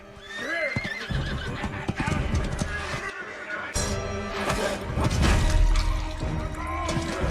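Horses whinny and neigh with clattering hooves in a fantasy TV series battle scene, loud and busy, mixed with crashes, whooshes and dramatic score throughout.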